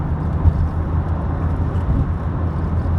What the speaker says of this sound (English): So I just wait for this car to go past and then I can overtake this one.